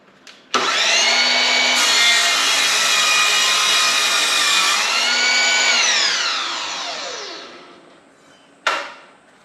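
A power saw cuts through wood on a table saw crosscut sled, a loud steady whine starting abruptly, holding for several seconds, then spinning down to a stop, followed by a short knock.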